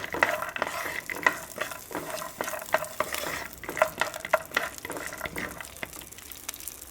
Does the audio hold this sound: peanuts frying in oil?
yes